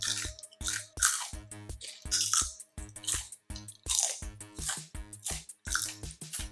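Loud, close crunching as a brittle air-fried rice paper snack is bitten about a dozen times in quick succession, with rhythmic music playing underneath.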